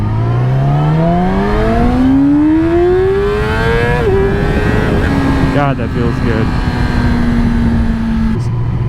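A 2017 Yamaha R6 sportbike pulls hard through first gear, its engine note climbing steadily in pitch with a sharp upshift around four seconds, then settling into a steady high drone; a rider speaks briefly over the loud, close engine.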